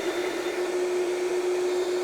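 A blender whirs steadily as it mixes a vegan carrot cake cheesecake filling, a constant motor hum with a high-pitched whine, unbroken for the whole stretch and with no talking.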